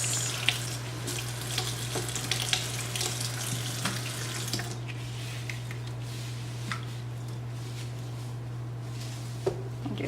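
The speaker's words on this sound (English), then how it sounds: "she has already rinsed off all the" Running water pours steadily over a wig's hair as it is rinsed clean after bleaching the knots, a continuous splashing hiss from a tap with occasional louder spatters, no voices.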